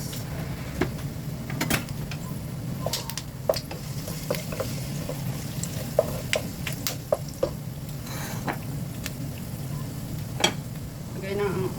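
Garlic sizzling in a hot pan after pork has been cooked, a steady frying hiss with occasional stirring scrapes and utensil clicks, close and continuous.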